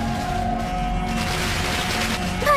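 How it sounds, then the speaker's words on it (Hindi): Diwali firecrackers burst in a movie scene, a dense crackling fusillade of sharp pops rolling continuously at a loud, steady level. "तो फिर पटाखे क्यों फोड़ रहे हैं?"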